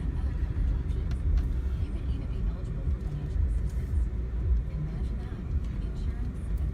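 A Mercedes ML 300 or 320 engine rumbles steadily from inside the cabin while being driven and given gas through the gears, with a low, continuous drone and no distinct shift points.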